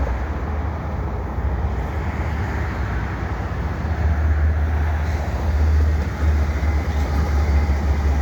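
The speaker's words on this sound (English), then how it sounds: "I've got a CN freight here, 4 locomotives underneath the Des Sources ramps." A CN freight train led by four locomotives rumbles beneath highway ramps in Montreal, a steady, loud low-pitched engine drone that swells midway with broadband rolling noise and traffic wash, no voices.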